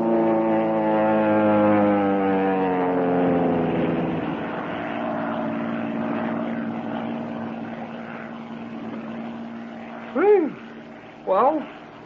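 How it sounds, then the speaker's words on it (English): An airplane in a power dive, staged as a radio-drama sound effect: a loud propeller engine drone whose pitch falls steadily as it sweeps overhead, followed by two short swooping whistles near the end. "That plane is coming down awfully fast. Yes, it's coming right over us. Sounds like a power dive."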